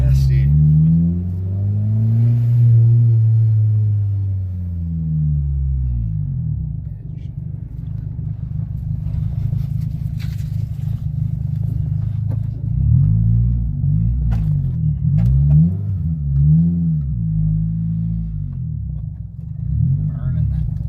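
A car engine revs in loud, deep, rumbling swells while the clutch burns, rising and falling several times close by, with people talking over it.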